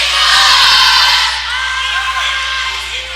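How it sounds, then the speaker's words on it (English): A crowd at a boys' high school basketball game, Ripley Union-Lewis against New Miami, roars and cheers loudly in a gym close by. The noise is steady and broad, with whoops rising above it. "Ripley Union's crowd right behind me"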